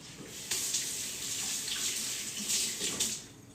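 A kitchen tap runs steadily while avocado-covered hands are rinsed under the stream, a close, continuous splash of water with small shifts as the hands move.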